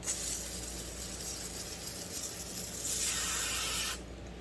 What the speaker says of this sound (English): I'm going to spray a little brake cleaner on them and wash them off